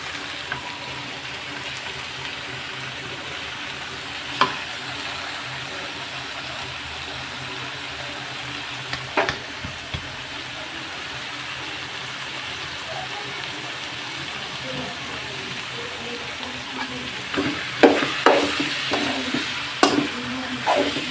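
Boiled banana flower is stirred with prawns in a pan, a steady soft sizzle running under the stirring, which turns into clustered spatula scrapes and knocks toward the end.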